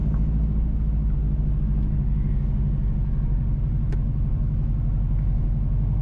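A car drives steadily along a rural road between Kinrara and Highgate in St Mary Parish, Jamaica, its low engine and tyre rumble constant and close throughout with no talking.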